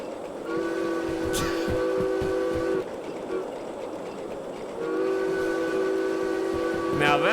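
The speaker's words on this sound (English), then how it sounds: "Now that's a train noise." Steam locomotive whistle in a train simulator game, sounding two long sustained blasts with a pause between, loud and close over rumbling rail noise and clanking.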